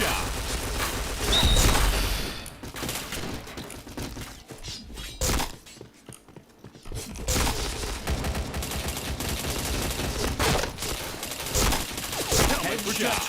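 Rapid, loud gunfire bursts from the shooter game Point Blank, dense at first, a short lull midway, then more volleys, with a voice talking intermittently over the shots.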